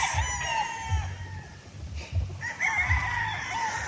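A four-month-old White Kelso gamefowl stag crows on a farm, the call rising over a busy yard with other fowl clucking and crowing nearby.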